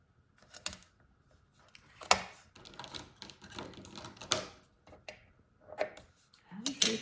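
Scissors snip through excess adhesive tape while a paper gift card pouch is handled, giving short sharp cuts and rustling close to the microphone, with quiet pauses between.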